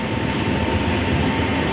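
The Kerala Express arriving at Kollam railway station produces a loud, close, steady rumble of rolling carriages with a low mechanical drone and faint wheel clatter, with no voices.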